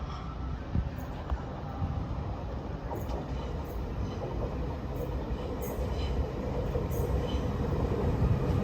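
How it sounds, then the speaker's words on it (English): LNER Azuma train, unit 800-111, pulling into York station on the East Coast Main Line, a steady rumbling rolling roar with faint rail clatter and occasional high squeal throughout. "Now arriving in is the 1556 LNER Azuma service from London King's Cross to Edinburgh Waverley."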